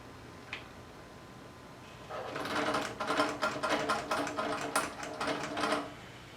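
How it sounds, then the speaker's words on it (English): Hero 1 robot's head motor whirring as it turns the head, a faint tick first, then a close, buzzy mechanical drone with rapid rhythmic pulses lasting a few seconds. "it's going to move the head back to its home position"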